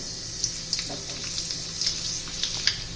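Mustard seeds and garlic frying in hot oil in a kitchen pan for a raw banana vegetable dish, giving a steady close sizzle with small popping crackles scattered throughout and no talk.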